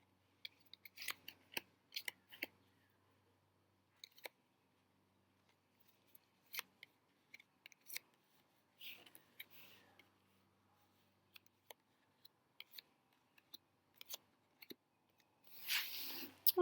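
Tarot cards being set out one by one on a surface make sparse, crisp snapping and tapping sounds, close and quiet, with irregular gaps and a rustling shuffle at the end.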